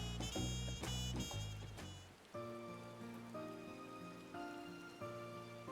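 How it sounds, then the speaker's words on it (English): Video game rain hisses steadily in a soft, even wash under a gentle musical background, quiet and with no voices. "Also, of course, it's raining."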